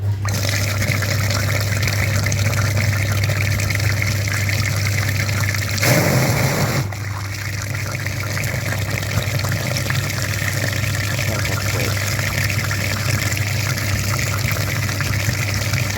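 Water runs steadily while a clogged car heater filter, caked with mud, is rinsed clean, with a brief louder gush around the middle.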